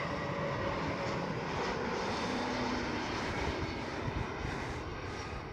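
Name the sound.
KLM Airbus A321neo airliner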